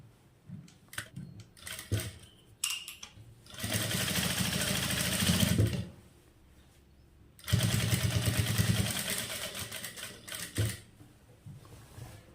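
A sewing machine stitching around the neckline of a nightie runs in two sustained bursts, each a few seconds long, with quieter pauses of fabric handling and faint clicks between them.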